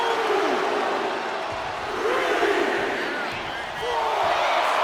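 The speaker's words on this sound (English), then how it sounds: "Cargill drawing a big reaction from the crowd" Arena crowd in the WWE 2K25 wrestling game roaring and cheering for Cargill, a loud sustained swell of voices with whoops and shouts rising and falling in waves.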